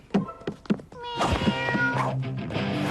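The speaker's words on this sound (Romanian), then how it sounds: "De unde a apărut pisica?" Cartoon cat meowing loudly in a short series of calls, a few brief clipped meows followed by a longer drawn-out yowl, close and clear with no talk over it.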